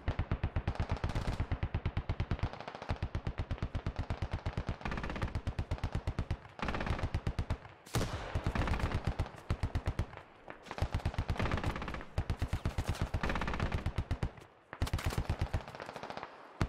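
Sustained automatic gunfire from the video game SquadOps, dense rapid bursts of machine-gun fire rattling almost continuously with brief pauses between volleys, loud and close, no talk.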